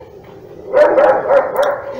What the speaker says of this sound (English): this motherfucking dog.